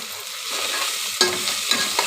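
Onions with ginger and garlic frying in a pan, a loud steady sizzle broken by a few sharp scraping stirs, close and with no talking.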